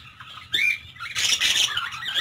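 Java sparrows of several colours (white, black, silver and brown) calling in a breeding colony: sharp, close squawks and chirps in bursts over a steady murmur of background bird chatter.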